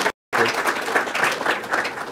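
An audience at a graduation gathering breaks into steady applause after a short silence, dense even clapping that holds at a fairly close, moderate level.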